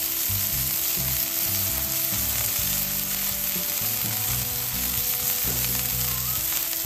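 Smash burger patties seasoned with salt, garlic and pepper sear on a hot griddle, a dense, constant loud sizzle running unbroken throughout.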